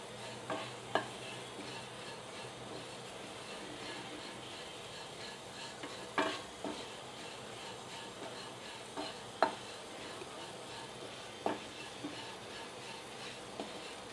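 Poha roasting in ghee is stirred in a pan, giving a faint, steady low sizzle broken by a few sharp spoon clinks spread through the stretch.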